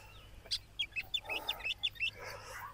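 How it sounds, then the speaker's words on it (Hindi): Small birds chirp at sunrise, a quick run of bright high tweets in an irregular burst over a quiet outdoor background, with a faint low hum underneath. "सिर्फ परिंदों की आवाज़ आ रही होती है"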